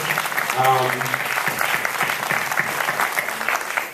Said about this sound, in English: Right away with a round of applause for all of our honorees here on stage.